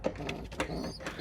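Pigeons coo in a loft, several low throaty coos overlapping in quick succession, close by, with soft rustling and a constant background hum.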